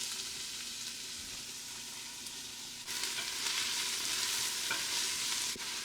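Onions drop into heated olive oil and sizzle steadily in the pot, the frying growing noticeably louder and brighter partway through, with faint stirring clicks.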